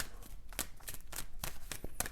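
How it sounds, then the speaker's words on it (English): Oracle cards being shuffled up close, a quick run of crisp riffling flicks and soft slaps in an uneven rhythm, moderately quiet. "One more shuffle."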